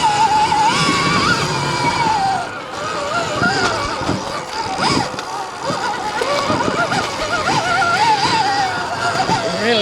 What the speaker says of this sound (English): Really hear that tyre scabbling for traction